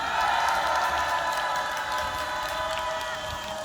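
Audience at a memorial ceremony gives sustained applause, a dense steady clatter of many hands with crowd noise and scattered cheers, loud and even throughout.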